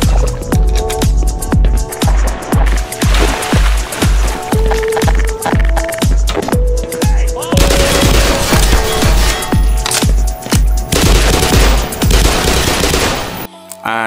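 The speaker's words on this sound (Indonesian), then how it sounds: "Dengan efek suara senjata kayak gini, berasa main game-game zaman Cinderella ninggalin sepatu kacanya nggak sih?" Gun sound effects from Black Mesa fire as steady rapid automatic shots in a loud rhythmic stream lasting over ten seconds, with brief pauses and layered game sounds.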